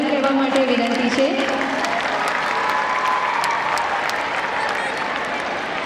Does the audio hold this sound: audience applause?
yes